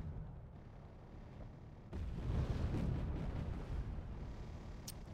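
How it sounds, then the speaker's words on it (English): Mortar fire in the strategy game Wargame Red Dragon: after a quiet start, a deep rumbling boom swells up and rolls on, followed by scattered distant blasts and a sharp pop at the very end. "So the mortars start back up again"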